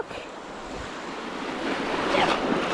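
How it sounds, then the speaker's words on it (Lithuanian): Sea waves wash in at a beach in Italy, a soft, continuous surf hiss with light wind noise that swells slightly louder toward the end as a wave rolls through. "The big wave."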